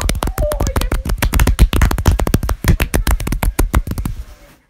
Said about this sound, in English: okay, I'm clapping